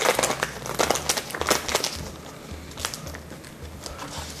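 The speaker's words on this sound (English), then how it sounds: "So first thing I'll do is get my tape on the top unadhered." Tape pulled and pressed over a hand-applied plaster stencil for faux painting, close crinkly crackling and rustling that is busiest at the start and then thins out.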